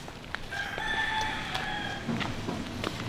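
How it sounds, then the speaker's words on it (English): A rooster crows once in Sayulita or San Pancho, Mexico, loud and drawn out, with faint clucks and background noise around it. "One thing about San Pancho and Sayulita is there are roosters."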